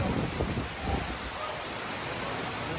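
Steady rushing hiss of rain with gusty wind, fairly loud and constant, with a few louder patters near the start.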